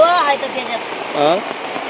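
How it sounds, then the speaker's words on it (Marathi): Heavy rain pours down steadily at night, a dense wash of noise with voices talking briefly over it. "मुसळधार पाऊस पडतोय"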